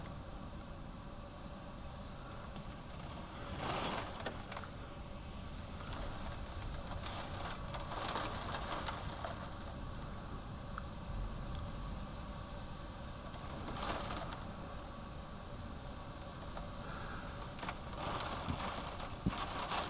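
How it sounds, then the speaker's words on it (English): Heavy rain sheets down outside a house onto a debris-strewn yard, a steady broadband hiss with occasional louder gusts and splashes, no talking. "The rain is just sheeting."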